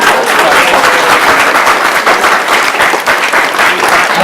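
A crowd at a motorsport driver Q&A session at Oulton Park applauds loudly and continuously, dense close clapping filling the whole stretch.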